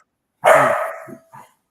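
A dog barks in a room, one loud close bark followed by a shorter, softer yip.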